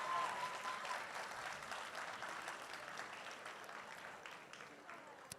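Steady applause from a live audience honoring a guest's family, dense clapping filling the room at an even level and tapering slightly toward the end, with a few voices mixed in.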